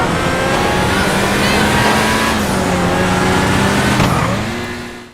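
An older Lamborghini Torero supercar in GTA Online roars loudly and continuously, its engine note holding steady, then shifting pitch near the end before it fades out quickly.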